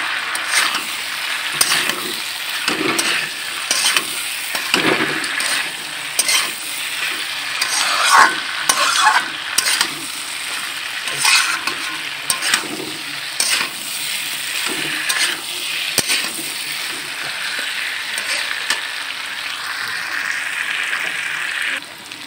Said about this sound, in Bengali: এবার ভালো করে আমি কষে নেবো আনাজের সাথে মশলাটা